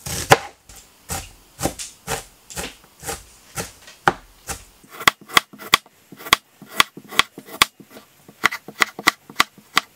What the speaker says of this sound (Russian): Также нарезаем по 150 грамм лука и моркови.